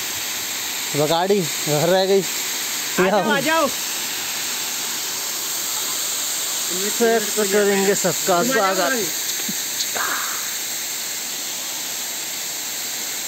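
Rushing water at Pedajhar waterfall near Rawatbhata, Rajasthan, a steady, close hiss that runs throughout while people talk over it in short bursts.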